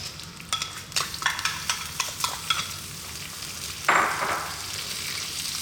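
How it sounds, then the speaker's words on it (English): Curry leaves, cumin seeds, black mustard seeds, garlic and ginger fry in a pan over medium heat, crackling under a run of quick stirring taps and scrapes, then a louder burst of sizzle as they are tossed. "Let's just throw this around in our pan."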